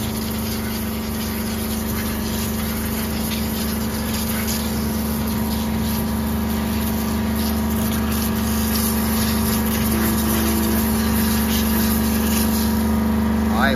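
An OK 508 pressure washer machine spraying water to wash cars and motorbikes gives a loud, steady motor hum and hiss that runs unbroken throughout.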